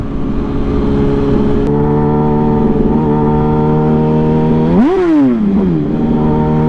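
A motorcycle engine idles steadily up close, then gives one sharp rev that swoops up in pitch and falls back, with road and wind noise throughout.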